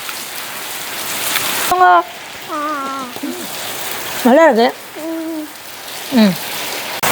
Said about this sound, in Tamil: அங்காளி ஒரு பக்கம் மழை பெய்யுது